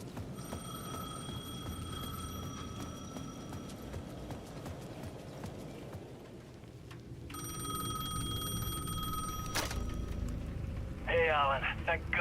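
A telephone rings in the video game Alan Wake 2, repeated bursts of steady ringing tones with a pause between them, set against a low droning game ambience and some clopping footstep-like sounds.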